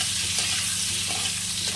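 Boiled potatoes fry in oil with turmeric powder. A continuous close sizzle is broken by a few soft stirring knocks, with no speech.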